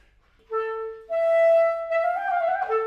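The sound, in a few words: Coleridge-Taylor clarinet quintet passage of imitation, slowed down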